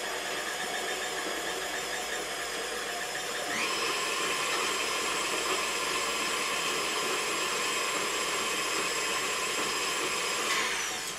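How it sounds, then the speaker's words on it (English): An electric stand mixer whirs steadily through cookie batter, a loud continuous motor drone that rises in pitch and intensity partway through, then drops back near the end, with no voices. "Now with my mixer on, I'm just going to add that into the bowl."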